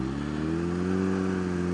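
A Kawasaki Z H2 2020 supercharged streetfighter motorcycle holds a steady, loud, close engine drone at launch as the clutch locks up, its pitch rising slightly and then levelling off.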